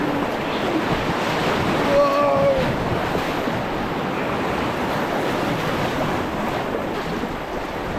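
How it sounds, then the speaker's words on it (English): Whitewater on the River Spey churns loudly around a packraft, a constant close rushing wash of breaking waves with a brief high cry rising over it. "Oh, that's a big wave."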